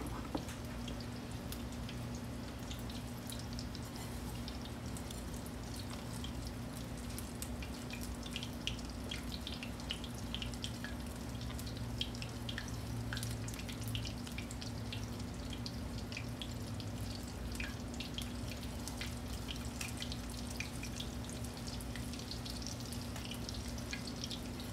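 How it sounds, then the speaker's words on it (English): Parmesan and breadcrumb crusted chicken breasts fry in a pan with a soft, steady sizzle and scattered small crackles. It is quiet and close, with no voices. "so I got them frying"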